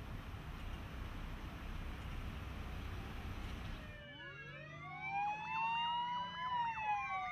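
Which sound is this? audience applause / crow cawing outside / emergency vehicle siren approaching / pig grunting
emergency vehicle siren approaching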